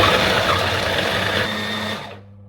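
An electric food chopper whirs loudly for about two seconds, a dense steady buzzing motor that then cuts off and winds down to quiet.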